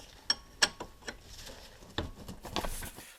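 Ratchet wrench tightening brake bolts on a 2003 Chevrolet Malibu, close metallic clicks and a few sharp ratcheting bursts with short pauses between, fairly quiet and alone.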